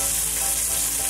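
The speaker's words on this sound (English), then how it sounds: "Basically what we're doing is flash frying the meat for like a minute or so" Brisket pieces flash-fried and seared in a hot pan at a chili cook-off give off a loud, steady sizzle. The hiss of hot fat is close and continuous from start to end, with no talking over it.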